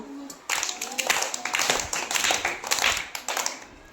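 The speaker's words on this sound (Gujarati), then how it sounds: "ચાલો બધા પહેલા પાંચ તાળી પાડી દો" A group of children in a first-grade classroom clap together in a sustained burst of quick, dense claps that starts abruptly and carries on to the end, with a faint voice underneath.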